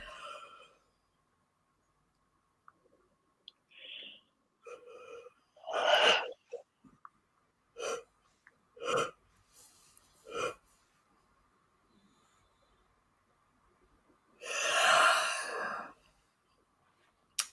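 Several breathy exhalations and sighing yawns, spaced apart in near silence, ending with a long drawn-out breathy yawn.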